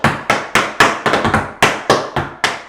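Tap shoes strike the floor in a quick run of sharp, close clicks for a cramp roll sequence in an advanced tap routine, about a dozen crisp impacts in uneven bursts.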